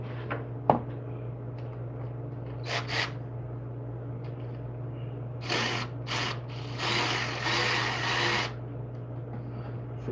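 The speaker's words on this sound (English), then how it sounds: "I'm gonna break the bolt for the alternator" A wrench breaks loose an alternator bolt on a Kia Soul, with a sharp click followed by short bursts of ratcheting under a steady low hum, all fairly quiet and close.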